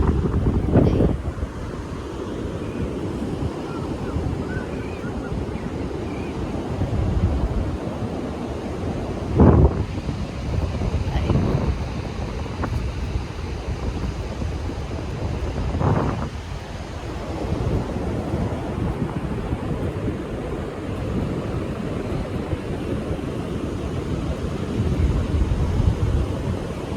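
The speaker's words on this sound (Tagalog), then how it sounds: "Lakas ng wave today guys." Strong surf pounds a beach in steady, rolling roars, with heavy wind buffeting the microphone throughout and a few louder wave crashes standing out.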